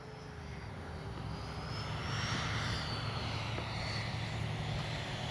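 An FMS F-16 64mm electric ducted-fan RC jet flies in to land, its steady whooshing whine heard at a distance and swelling slightly louder as it approaches, with no talking.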